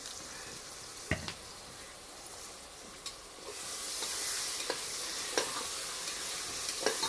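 Ground paste frying in a pan while being stirred, for chicken 65 and chicken biryani: a steady close sizzle with several sharp scrapes of a spoon against the pan, the sizzle growing louder partway through.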